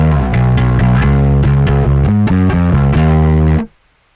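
Distorted bass guitar notes played in a steady pattern through a Rowin noise gate on its slow setting, then cut off abruptly into near silence as the gate closes.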